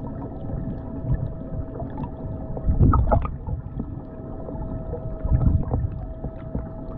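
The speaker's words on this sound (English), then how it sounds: "just hearing the sounds of the water." Low gurgling and sloshing water under a Pelican Bass Raider boat running an electric outboard at full power, a quiet steady wash with a faint motor whine and a couple of louder swells.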